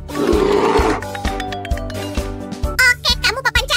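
A voice imitates a bear's roar with a loud, rough growl at the start, followed by tonal bell-like music and other voices chattering.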